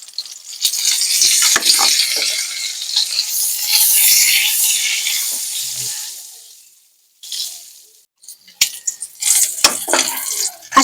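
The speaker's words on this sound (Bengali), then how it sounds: "এবার আমি দিয়ে দিচ্ছি তেল। এবার আমি দিয়ে দিচ্ছি ডিম।" Eggs frying in oil with a little turmeric in a wok give a loud, steady sizzle that swells and then fades, followed by a brief pause and scattered bursts of spattering and stirring.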